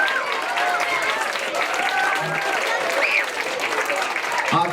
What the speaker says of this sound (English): Can we give them a huge round of applause, parents?